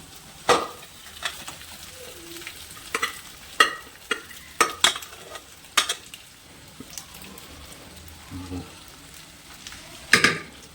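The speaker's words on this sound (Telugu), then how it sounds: "సో వేసేసుకొని కొద్దిగా ఆయిల్లో ఫ్రై చేద్దాం మటన్ని కూడా." Boiled mutton pieces stir-frying in a little oil with green chillies and curry leaves, a soft sizzle under repeated sharp scrapes and clanks of a spoon against the pan.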